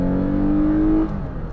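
Lexus IS 350 rear-wheel-drive sedan (2014-2020) with a naturally aspirated engine accelerating while driving, a steady rising engine drone heard from the cabin that drops away after about a second.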